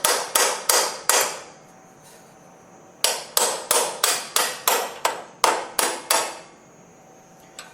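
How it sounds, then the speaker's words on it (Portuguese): Small hammer striking a suspension part of a Jeep Willys, sharp metallic blows in quick bursts, four, then seven, then three more, close and loud with brief ringing between strikes. "Martelinho."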